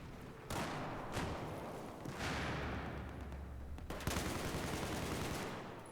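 Sustained automatic gunfire and explosions from the video game Battlefield 4, continuous loud bursts and rattling shots with a heavy blast near the end, filling the whole stretch without speech.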